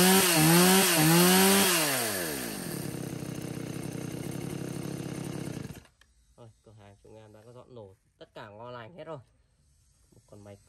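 A Stihl 180C household chainsaw with a 38 mm cylinder runs loud and close, revving high and then winding down before cutting off, after which someone speaks.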